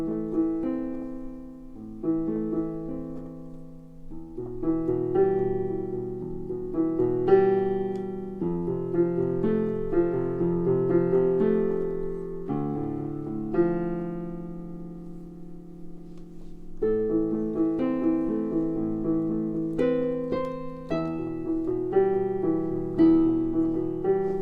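A piano plays a slow chord progression with a repeating left-hand pattern under sustained, pedaled chords that swell and fade in volume, clear and close for about twenty-five seconds with no talking.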